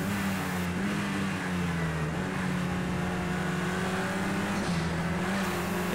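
A racing car engine held at full speed in the Project CARS 2 racing game, climbing to the top of sixth gear before braking. The roar is loud and steady across the whole stretch, with small shifts in pitch and no speech.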